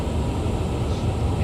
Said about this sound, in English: You saw that? That was a plane passing right here.